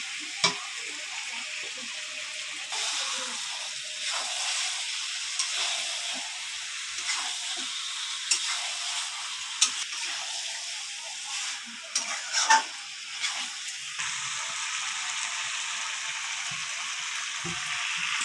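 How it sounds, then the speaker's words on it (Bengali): Fried potatoes dropped into meat simmering and browning in a pan for a chicken curry, a continuous broad hissing sizzle with occasional clinks and stirring bumps, steady and close throughout, no voices. "ভেজে রাখা আলুগুলো আমি দিয়ে দেবো।"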